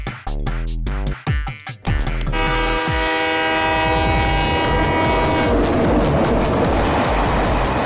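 A cartoon train pulls in: a few clanking, tonal bursts come first, then a loud, sustained horn blares and rings out over the rumble of the arriving train.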